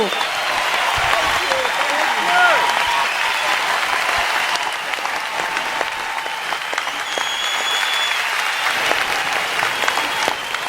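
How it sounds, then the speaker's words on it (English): Sustained audience applause for performing artists at an environmental heroes gala in Cancún, Mexico, a dense, steady wash of many clapping hands filling the whole stretch without letup. "Please, please applause and thank these wonderful, talented artists"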